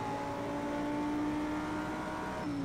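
Audi R8 road car in Project Cars 2 racing at Bathurst, its engine holding a steady high drone with a rising pitch, then a sudden drop as it shifts gear near the end.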